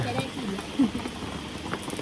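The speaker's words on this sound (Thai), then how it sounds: "ฝนตกทั้งวันเลย" Steady rain falls during a rainy-season day in Suan Phueng, Thailand, a dense continuous patter with scattered heavier drops, under quiet talk.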